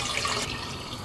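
Water being poured into a deep saucepan on the stove, a short bright splashing rush that settles into a softer trickle, close and alone.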